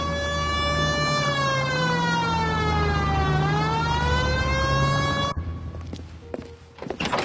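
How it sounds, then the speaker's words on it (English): A police car siren in the video game LA Noire, set in Los Angeles, wails loud and close in a rising and falling tone for about five seconds, then cuts off, leaving some engine and scattered knocks. "Hit the siren."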